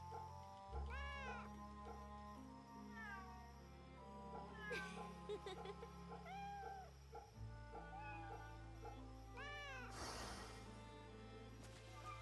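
A cat in the Fate/Samurai Remnant video game meows repeatedly, with short rising and falling calls spread across the scene over a low background hum.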